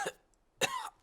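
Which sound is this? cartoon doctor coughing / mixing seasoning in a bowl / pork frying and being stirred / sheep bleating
cartoon doctor coughing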